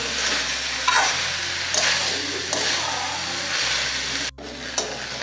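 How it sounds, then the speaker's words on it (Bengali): Banana stem frying with spices in a pan for a Bengali vegetarian thor ghonto, a steady close sizzle broken by intermittent scraping stirs, with a brief dip near the end. "থোরগুলো দেওয়ার পর মশলার সঙ্গে আরও কিছুক্ষণ ভালোভাবে কষাতে হবে।"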